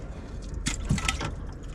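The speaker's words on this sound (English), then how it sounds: "I'm gonna lose some more coolant when I do this" Engine coolant trickles and splashes out during a thermostat swap on a car, a short wet spill with a brief burst of liquid sound over low background noise.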